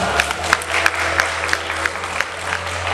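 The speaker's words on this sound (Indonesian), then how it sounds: "Tepuk tangan dong teman-teman." An audience claps steadily at a talk about Semeru climbers, a dense, sustained patter with a few sharper claps standing out and a faint voice underneath.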